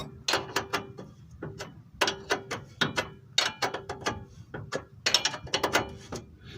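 A ratchet with a 22 mm socket turns a ball joint castle nut on the front suspension of an all-wheel-drive Chevy Blazer, giving close, crisp rapid clicking in repeated bursts separated by brief pauses.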